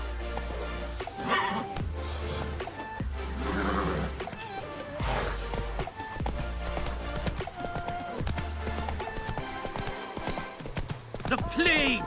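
The horse Roach gallops in The Witcher, giving rhythmic hoof clip-clops with whinnies and neighs in bursts, mixed with game music and a character's voice speaking.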